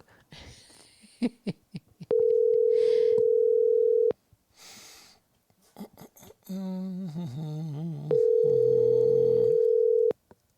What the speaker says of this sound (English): Let's call Jonathan back here because he wants to ask a question